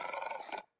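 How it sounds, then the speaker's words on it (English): A lion gives a short, loud, close roar with a pulsing, growling texture lasting about half a second, then cuts off into quiet. "lion"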